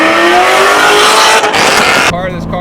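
A cammed C5 Corvette with long-tube Texas Speed headers and Corsa exhaust roars loudly up close, revving hard with a rising pitch before the note drops off as it lets off.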